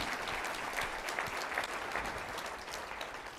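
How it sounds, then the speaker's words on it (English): An audience applauds steadily at a university convocation, a dense, even clatter of many hands that holds throughout at moderate level, recorded from within a large hall. "And that deserves a round of applause, by the way."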